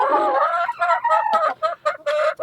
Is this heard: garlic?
no